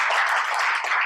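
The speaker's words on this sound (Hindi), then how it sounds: "बहुत अच्छा, जोरदार ताली हो जाएगी।" A classroom of students claps enthusiastically, a dense, steady burst of applause filling the whole moment.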